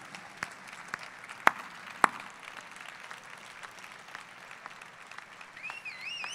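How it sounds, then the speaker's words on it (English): F1 in Schools teams get a standing ovation at the 2014 World Finals awards ceremony: a faint, steady wash of crowd applause with a couple of sharp, distinct claps near the start. "could all the F1 in Schools teams rise and take a standing round of applause."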